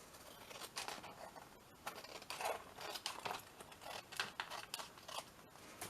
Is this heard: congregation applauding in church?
no